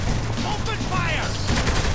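Gunfire in Saints Row The Third rattles as a dense, continuous barrage of shots mixed with game noise and a voice, loud throughout the short stretch.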